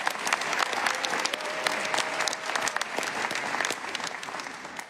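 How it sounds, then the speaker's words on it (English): Applause from a crowd at a New York City mayoral press event, greeting students standing behind the podium; steady, dense clapping fills the whole stretch at moderate loudness, with a few louder claps standing out. "let's give a big round of applause for our students who are standing behind us today"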